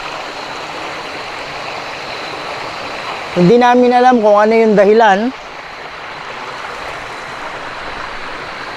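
Loud, continuous rushing water fills the scene, with someone speaking briefly over the roar.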